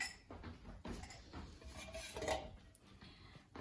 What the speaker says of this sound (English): And now we bring the jar.